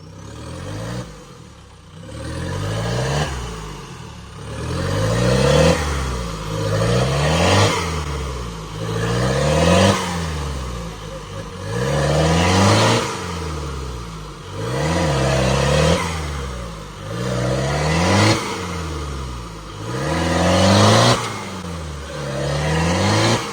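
A Maruti Gypsy on 40-inch tyres, stuck deep in mud off-road, revs its engine in repeated loud surges, with about nine rising and falling pulls as the wheels spin, close by with no talk.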